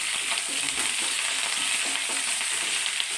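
Curry leaves and dried red chillies sizzle and crackle in hot oil for a taro curry with ground coconut, a steady, close frying hiss with light stirring throughout.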